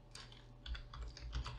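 Typing on a computer keyboard gives a quick patter of soft key clicks over a short stretch, close by and fairly quiet, with no voices.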